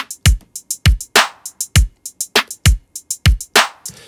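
A drum pattern with steady hi-hat ticks at shifting loudness, some hits accented and others soft, alongside punchy low kick thumps, played alone.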